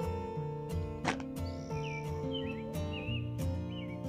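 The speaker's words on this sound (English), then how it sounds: "I just love the sound of doves." Doves coo outdoors during a morning walk, their soft calls mixed with other chirping birds over steady tonal background music, moderately loud and continuous throughout.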